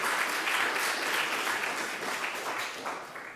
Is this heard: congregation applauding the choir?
yes